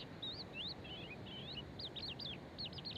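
Seabird adults and their chicks call in a run of thin, high, wavering cries and quick rising chirps on a coastal site, fairly faint over a constant background hiss, with no voices.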